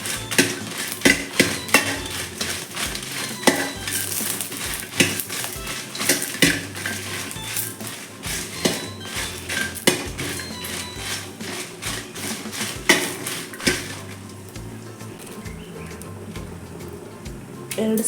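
Red chilies frying in coconut oil in a pan, heard as repeated metallic clinks of utensil against pan over a steady background, a spoon or spatula striking at irregular intervals.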